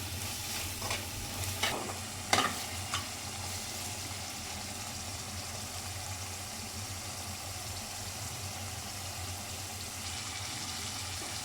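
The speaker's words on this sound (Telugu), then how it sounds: "ఇవన్నీ బాగా కలిసిపోయేటట్టు కలుపుకొని రైస్ వేసుకొని కలుపుకోవటమే" Rice being stirred into a frying spice mixture in a pan, with a steady low sizzle and a few brief scraping stirs near the start, then an even background hiss.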